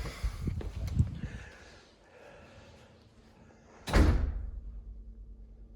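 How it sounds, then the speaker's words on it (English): A house's front door is handled close by: soft rattles and knocks, then a sharp, loud slam that rings out briefly before fading. "Here's the front door."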